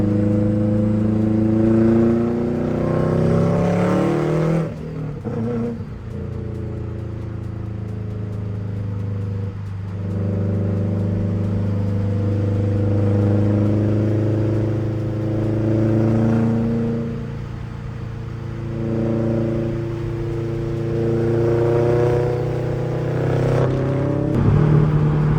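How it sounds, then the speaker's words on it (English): A Subaru WRX fitted with a Tomei exhaust drives under load, its deep burbling engine note rising and falling through gears, with a turbo whirring above it and a few brief dips at shifts. "Turbo noise is so nice."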